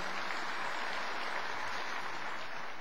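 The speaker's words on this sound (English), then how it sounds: "They deserve a lot of applause for that." Audience at the Dan David Prize award ceremony claps in a brief, steady burst of moderately quiet applause.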